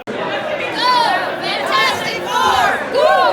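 A small team of people shouts excitedly together in an attempted group cheer, overlapping voices in loud bursts and rising calls, close and chaotic rather than unified.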